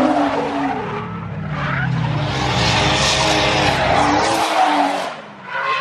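A Toyota JZX100 drift car with a turbo engine roars close by with its tires squealing and skidding in a long, continuous slide before the noise drops away at the end.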